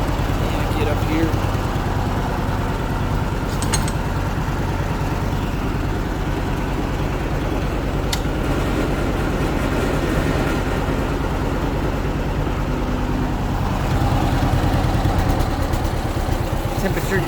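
A John Deere 420W tractor engine runs steadily at a loud, even idle, popping along with a continuous low rumble throughout.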